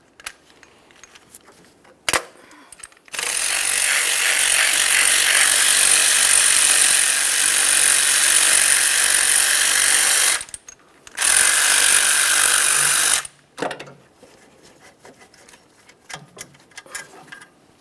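A ratchet runs in long, loud, steady bursts while backing out the upper alternator mounting bolts on a 2012-2015 Honda Civic 1.8L I4, with one sustained stretch, a short gap, then a shorter burst, and a few clicks between.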